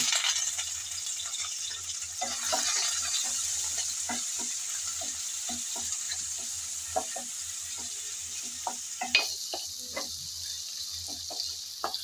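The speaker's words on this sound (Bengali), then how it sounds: "তেল হালকা গরম হয়ে আসছে, এখন দিয়ে দেব চিংড়িগুলো।" Prawns seasoned with salt, chilli and turmeric fry in hot oil, a steady close sizzle with scattered popping crackles and occasional utensil clinks, no voices.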